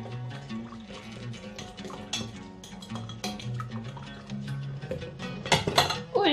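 Spoon clinks and scrapes against a bowl as a batter mixture with milk is stirred, with some clattering dishes and faint running water in the background.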